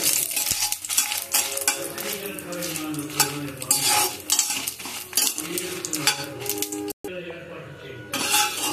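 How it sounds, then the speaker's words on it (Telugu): Dried red chillies frying in hot oil in a pan, with a continuous crackling sizzle and repeated metallic spatula scrapes and clinks against the pan, close up, with a brief dropout near the end. "ఆయిల్ కొద్దిగా వేడెక్కిన తర్వాత ఈ ఎండుమిర్చి తీసుకువెళ్ళి వేయించుకోవాలి ఫ్రెండ్స్"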